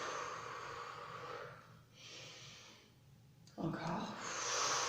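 A long, audible exhale through the nose and mouth during a fitness breathing exercise, breathy and fairly close, with an instructor's voice speaking around it.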